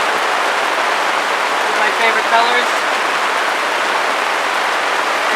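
Heavy rain pours off a roof in a continuous waterfall-like rush, loud and dense, with a voice briefly speaking over the steady downpour.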